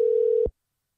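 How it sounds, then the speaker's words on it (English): A single steady telephone line tone sounds for a split second after a dropped call, then cuts off abruptly into silence. "I heard some beeps and I didn't realize I was talking to nothing."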